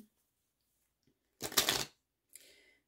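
Tarot cards are shuffled in a quiet room: a short burst of riffling lasting about half a second, then a softer, briefer shuffle moments later.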